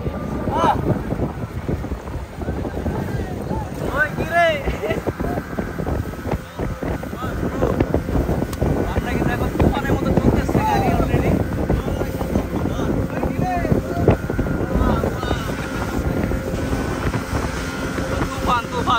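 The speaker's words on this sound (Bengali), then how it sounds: "আমরা এখন বোট রাইড দেবো" A motorboat ride on water: a continuous rumbling engine with wind buffeting the microphone and water rushing past, loud and close, with voices talking intermittently over it.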